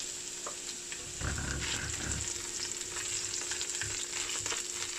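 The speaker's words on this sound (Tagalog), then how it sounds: "Kaya ang sarap talaga pagka naggigisa ng bawang eh." Garlic sautéing in a pan ahead of spicy fried chicken breast and stir-fried spinach, giving off a continuous bright sizzle with a burst of louder crackling as it is stirred, no talking.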